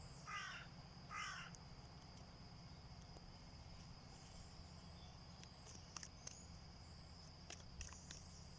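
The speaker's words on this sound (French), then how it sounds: "Je ne sais pas si vous entendez le corbeau." A crow caws twice, far off and faint, over a steady hum of crickets and insects outdoors, followed by a few soft ticks and rustles.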